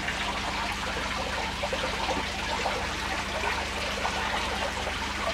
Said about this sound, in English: which is trickling away beautifully.